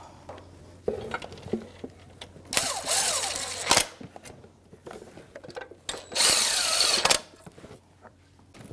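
A power tool drives exhaust manifold bolts on a 1997-2006 Jeep Wrangler with the 2.4L four-cylinder, giving two loud whirring bursts of about a second each, separated by clinks and clatter of metal parts up close.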